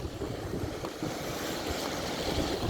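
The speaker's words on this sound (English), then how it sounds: "the majestic and often terrifying ocean" Ocean surf rolls onto the beach at Pendine Sands, a steady broad wash of waves mixed with wind buffeting the microphone, continuous and fairly loud with no voices.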